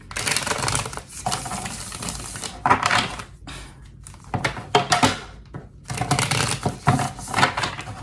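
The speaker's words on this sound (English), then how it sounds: "we got a good little shuffle going on" Playing cards are riffled and shuffled in several quick bursts of papery flutter, separated by short pauses, close to the microphone.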